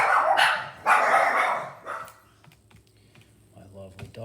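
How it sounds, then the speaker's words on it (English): Dogs bark in two loud bursts near the start, followed by quieter background noise with faint clicking that resembles keyboard typing. "lovely dogs again."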